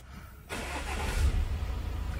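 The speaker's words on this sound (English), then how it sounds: "start the car up." A 2017 Audi A6 Avant estate with a 2.0 TDI diesel engine cranks and fires up, then settles into a steady, close idle with a slight rise in revs.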